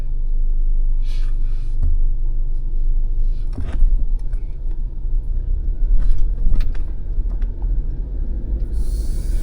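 A 2024 Chevy Colorado ZR2 pickup drives along, heard from inside as a steady low engine and road rumble with a few faint rattles and clicks, continuous and moderately loud.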